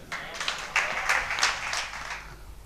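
Audience applause at a mushaira, an Urdu poetry gathering in Bahawalpur, as a poet is welcomed to the stage: a steady wash of many hands clapping at moderate volume, with a few brighter bursts, running throughout.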